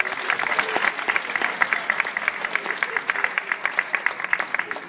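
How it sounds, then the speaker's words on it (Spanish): An audience applauds steadily, many hands clapping in a dense, lively burst that holds at full volume throughout. "fuerte el aplauso para todas las mujeres"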